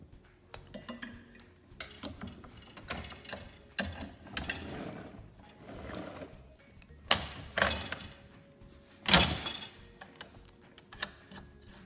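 Mechanical clicks, ratcheting and metallic clanks come close and distinct in irregular bursts as the tension on a portable winch drum is tightened and adjusted, with no talking.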